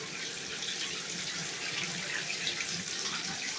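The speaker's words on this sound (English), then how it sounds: "we're going to fill the inside of that bottle with some soap." Soapy water running steadily into an old glass bottle from a tap, a continuous close hiss and splash at an even level with no talking.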